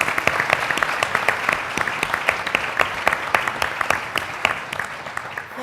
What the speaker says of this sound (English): can we all just a round of applause for the Hellenic Coast Guard?